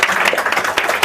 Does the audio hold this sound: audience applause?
yes